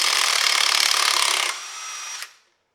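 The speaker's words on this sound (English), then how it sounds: "we can dual wield impacts here" Bauer 20V 1/2-inch and DeWalt impact wrenches hammering at the same time while tightening to 100 foot-pounds, loud and close with a rapid continuous rattle; one stops at about 1.5 seconds and the other runs on alone before cutting off.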